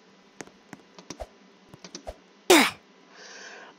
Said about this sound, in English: This one, I'm literally smacking my keyboard.